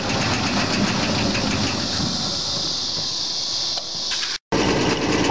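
The shaker motor of an Oliver 80 gravity table seed separator runs with a steady mechanical rumble and hum, loud and continuous, with a brief cut near the end.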